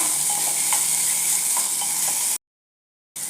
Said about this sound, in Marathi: टोमॅटो ही अगदी दोन मिनटासाठीच आपल्याला परतून घ्यायचं आहे